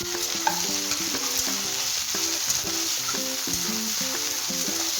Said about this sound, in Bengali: এরপর ক্যাপসিকাম আর বিনস আর লঙ্কা কুচিটা দিয়ে দিলাম।